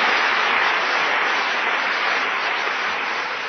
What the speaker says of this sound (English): Let's have another round of applause for Maureen.